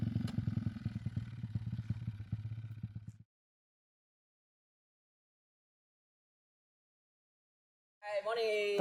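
A motorcycle climbing a winding mountain road toward a sea-of-clouds viewpoint in Kaki Bukit, Perlis, with a steady close engine drone for about three seconds, then silence, then a brief voice near the end.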